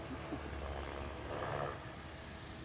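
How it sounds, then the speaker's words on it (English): A drone or small helicopter flying over an open outdoor spot, heard as a faint, distant, steady engine drone that swells slightly midway before easing off. "a drone over there, or someone flying one of those helicopters"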